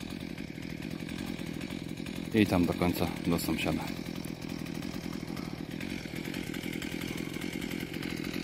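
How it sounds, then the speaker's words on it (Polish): Chainsaw cutting through an old hedge, a steady motor drone running throughout with a brief louder burst of rough cutting noise midway, while someone talks over it nearby. "Idzie to dosyć sprytnie piłą motorową."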